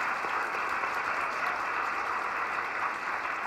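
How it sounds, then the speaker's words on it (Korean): Audience at a university special lecture by the Seoul mayor breaking into sustained applause, dense even clapping from a large crowd heard at a distance, steady throughout with no talk. "우리 감사의 뜻으로 다시 한번 큰 박수 보내주시기 바랍니다"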